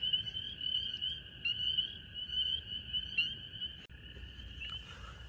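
Chorus frogs and spring peepers call at night in early spring, a few lone males. The high, steady trilling and peeping chorus runs continuously and sounds moderately distant and fairly quiet.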